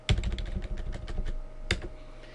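Quick run of keystrokes on a computer keyboard, close and clear, tapping at an uneven rhythm for a couple of seconds with no talking.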